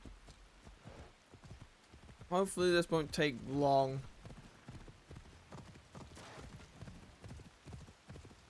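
Horse hooves clip-clopping in the Assassin's Creed Shadows video game, with a horse whinny or snort in the middle, heard under someone talking.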